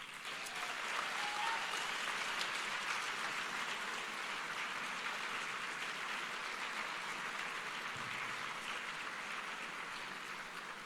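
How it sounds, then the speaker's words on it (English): A large audience at a graduation ceremony for full-time master's students applauds, a sustained dense clapping that stays strong and even before easing slightly near the end. "So perhaps you can give them an applause."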